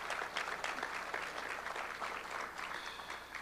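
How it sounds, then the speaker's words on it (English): Audience at a military retiree gathering applauds panel members and presenters, a dense continuous wash of many hands clapping at moderate distance, steady throughout with no voices standing out. "just giving a round of applause for all the panel members and the presenters"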